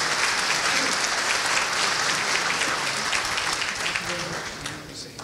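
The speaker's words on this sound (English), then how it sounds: "let's give another round of applause to Dr. Mehta" An audience applauds at the close of a talk on multiple sclerosis therapies, a dense, sustained burst of clapping that stays loud, then eases slightly toward the end.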